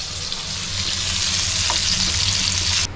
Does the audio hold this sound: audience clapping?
no